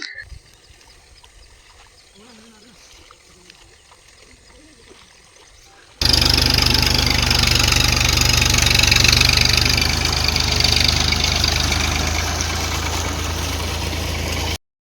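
A tractor engine runs loud and close at a paddy field, starting abruptly after a few seconds of quiet outdoor ambience and then holding a steady, rough mid-range drone with faint knocking.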